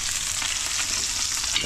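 Fish frying in a pan, a dense, continuous crackling sizzle that stays loud and close for the whole short stretch, with no voices.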